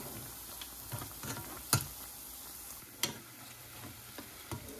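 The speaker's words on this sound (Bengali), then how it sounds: "এই তো মুচমুচে করে লাল করে ভেজে নিচ্ছি, হয়ে গেছে আমার পকোড়া" Battered vegetable pakoras deep-fry in hot oil with a soft, steady bubbling crackle, broken by a couple of sharper clacks of a utensil against the pan.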